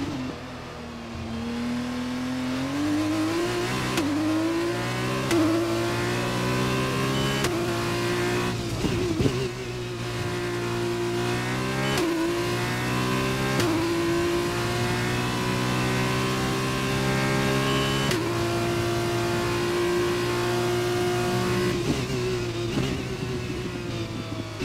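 Race cars in F1 2021 accelerate through the gears, with a loud, continuous engine whine that rises and drops with each shift and no talk.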